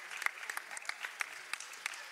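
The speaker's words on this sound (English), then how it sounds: "She'll get a nice round of applause from the crowd." Light, scattered applause from a small crowd at a women's college basketball game, faint and brief clapping for an injured player getting back to her feet.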